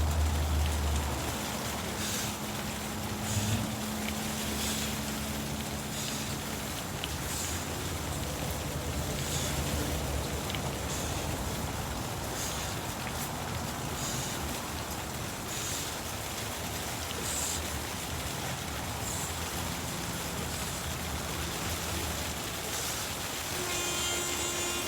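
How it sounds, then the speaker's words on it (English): Hail falls during a hailstorm, a dense continuous rattle and patter on surfaces lasting the whole stretch, steady and fairly loud, with a faint hum underneath. "Quite a bit of hailing now in the middle of a hailstorm."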